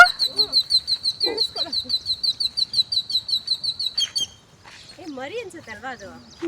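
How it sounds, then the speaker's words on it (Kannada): Bright, rapid bird chirps repeat steadily for several seconds, then other calls and a few voices follow nearby. "ಎಷ್ಟೊಂದು ಪಕ್ಷಿಗಳು ನೋಡಕ್ ಸಿಗ್ತಾ ಇದೆ"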